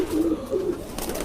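Close, rolling coos come from Kalpare Madrasi show pigeons sitting in a loft, two or three throaty swells in quick succession with no talking.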